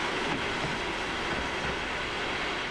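A Mongolian Railways overnight train runs along the rails toward Ulaanbaatar, giving a steady, loud rumbling roar of wheels and carriage noise from on board, with no talking.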